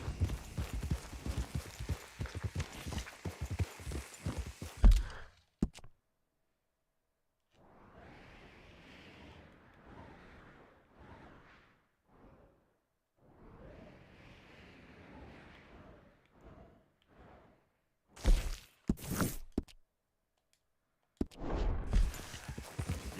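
A horse's hooves clip-clop in steady rhythmic runs in Red Dead Redemption 2, with quieter stretches of soft ambient movement between the louder bursts of hoofbeats.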